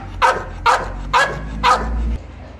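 A pit bull barks four times in a close, evenly spaced series, each bark loud and sharp, with no talking.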